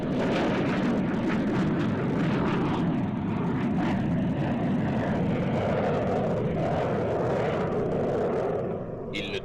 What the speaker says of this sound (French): Ce monoplace se contente de 700 mètres de piste pour se libérer du sol.